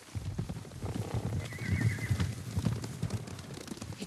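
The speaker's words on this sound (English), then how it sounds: "Horses, they're coming for us." Horses in Ghost of Tsushima whinny and gallop, a rapid rumble of hooves with a high shrill neigh rising over it midway, under rain and ambient game sound.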